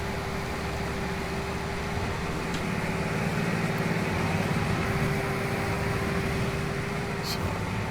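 A John Deere tractor engine idles on a farm during harvest, a steady low mechanical drone with a constant tonal hum running unchanged throughout, fairly close and even in level.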